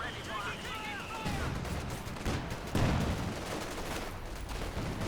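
Support guns firing in Company of Heroes 2, a busy spread of dull booms and gunfire thuds, with a sharper impact near the three-second mark, under steady battle noise.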